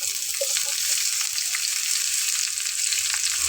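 A loud, continuous sizzle of chopped onions frying in hot oil in a pan, close by, with occasional faint clinks of stirring.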